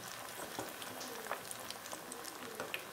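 Groundnut oil bubbles in a pan while seppang kilangu (taro) fries, a steady soft crackle with small pops and spits scattered throughout, close and fairly quiet, with no voices.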